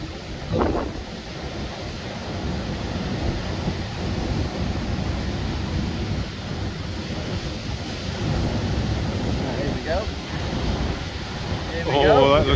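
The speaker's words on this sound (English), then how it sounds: "You get a lot of the energy when the water hits and dissipates." Ocean waves crash and wash along the shore in a continuous roaring surge with heavy wind buffeting the microphone, the swell building steadily and brief faint voices breaking through near the start and end.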